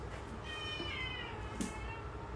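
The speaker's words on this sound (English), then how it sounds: "Can you guys hear my cat?" A cat meows in a drawn-out call at moderate distance over a low hum, followed by a brief soft sound.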